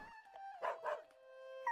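A dog barks in the video game Arc the Lad: Twilight of the Spirits: two quick, soft, yappy barks set over a sustained musical drone, fairly quiet and close.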